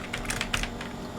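Short burst of keystrokes on a computer keyboard while code is entered, a few quick taps close up and fairly quiet, with no talking.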